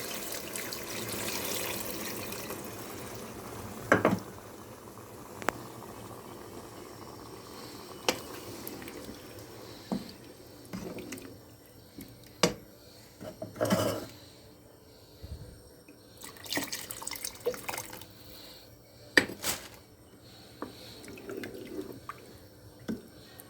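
Hot water is poured into a pot of spinach, rice and bulgur, with faint, intermittent splashes, drips and pours over a low, quiet background.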